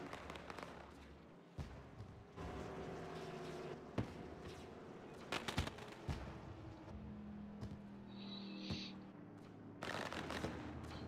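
Fireworks bursting at a night racing event, a series of sharp bangs and crackles at irregular intervals over steady crowd and engine background, fairly distant and moderate in level.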